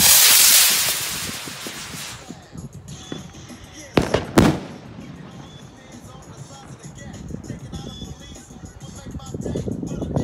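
Zink 910 Bombenrakete fireworks rockets, a 6-shot German Zink Feuerwerk item, go off with a sharp cluster of close bangs near the middle, then crackling and rumbling fades under wind and crowd noise.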